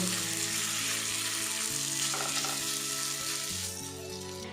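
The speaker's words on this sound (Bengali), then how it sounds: "বাকিগুলো আমি এইভাবে ফ্রাই করে নেব।" Chowmein mixture fries in a pan with a steady, dense sizzle that stays loud and continuous throughout, easing off slightly near the end, with no voices.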